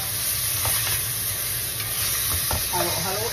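Spare ribs hit a hot pan for sweet and sour ribs, giving a steady close sizzle and frying hiss with some stirring scrapes, continuous throughout with no talk.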